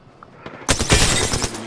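Gunfire in Apex Legends, a dense burst of rapid shots erupting after a few sparse earlier cracks, loud and close, continuing as sustained automatic fire with no talking.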